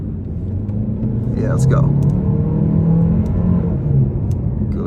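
A 2022 Chevy Malibu LT Redline with a CVT hums along on a test drive, a steady low engine and road rumble that swells slightly midway, with a person talking briefly over it.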